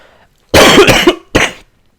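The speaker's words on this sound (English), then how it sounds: "Sorry, I'm coughing shit up." Two sharp, close coughs, the first a longer raspy burst and the second a short follow-up, with near silence before and after.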